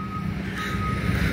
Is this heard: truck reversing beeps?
yes